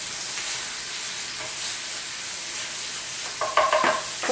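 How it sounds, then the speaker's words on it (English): About two tablespoons of tomato paste worked into a hot pan for an Asian barbecue shrimp dish, with a constant loud sizzle and a few scraping strokes of the spoon near the end. "I am going to put in about 2 tablespoons of tomato paste and start to work it into the pan"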